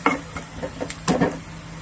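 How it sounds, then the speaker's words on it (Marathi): Sliced onion frying in oil in a pan as it is stirred, soft crackling sizzle with a few scraping stirring strokes, close and quiet. "तेल छान सुटत गेलंय, म्हणजे कांदा छान भाजला गेलेला आहे."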